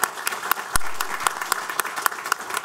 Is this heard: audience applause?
yes